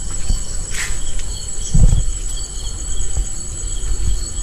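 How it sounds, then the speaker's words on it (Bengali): Crickets chirp steadily outdoors at night near a mud house, a thin continuous high trill with scattered soft knocks and a brief low thump in the background. "ঝিঝি পোকার ডাক শোনা যাচ্ছে।"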